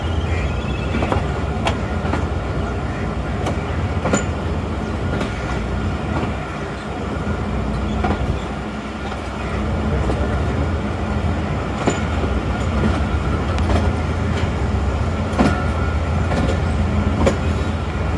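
The 15Up Karachi Express passenger train runs on the rails between Sahiwal and Lahore, heard as a loud, steady rumble with recurring clickety-clack wheel beats throughout, with no voices.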